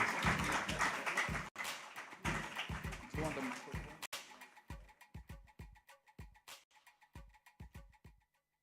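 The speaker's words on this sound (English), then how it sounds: "Please clap loud though." Audience applause at a corporate mobile app launch event as an executive walks on stage, a dense burst of clapping under loud music that thins to scattered claps and fades out.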